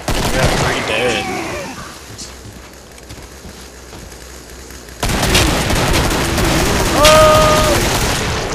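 Rapid gunfire from heavy guns in the video game Killing Floor, with loud, dense bursts that drop away midway and then return even harder, joined by sharp electronic tones near the end.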